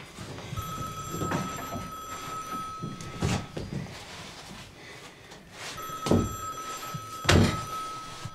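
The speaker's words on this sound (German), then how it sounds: "Ich rufe ihn gerade auf das Haustelefon an." A house telephone rings in two bursts of electronic trilling, fairly faint against room noise, with a few thumps and knocks around them.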